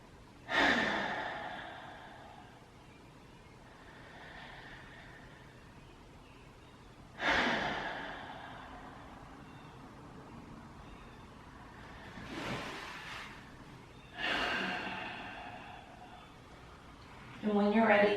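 Slow, deep breaths during a guided mindfulness exercise, four long airy exhales spaced several seconds apart, close and fairly soft, with quiet stillness between them.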